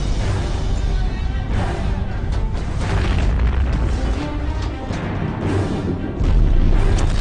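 A torpedo explodes inside the Kursk submarine: a deep, heavy boom rolling into a continuous roaring rumble that stays loud for several seconds and swells again near the end, with no voices.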